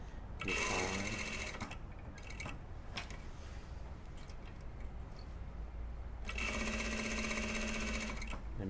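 A sewing machine topstitching the yoke of a blouse runs in two fast, close, whirring bursts with a quieter pause between them, alone with no talk.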